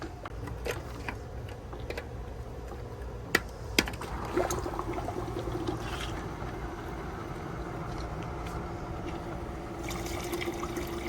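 Water flowing through pump hoses while a Rheem tankless water heater is flushed: a steady, low rushing with a trickling texture, broken by a couple of sharp knocks early on, with no talking.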